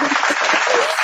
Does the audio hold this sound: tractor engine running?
no